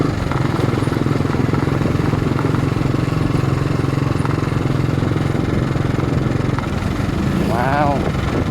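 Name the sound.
big bike motorcycle engine while riding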